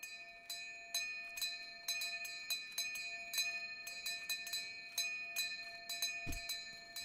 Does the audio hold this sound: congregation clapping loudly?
no